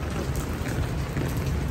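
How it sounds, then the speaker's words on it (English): Heavy rain falls in New York City, a steady and dense hiss with a low rumble beneath it, continuous and fairly close, with no voices. "Raining hard,"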